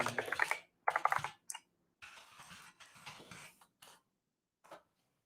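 Rapid keystrokes on a computer keyboard come in several close bursts with short pauses between them, loud and near, with no voices.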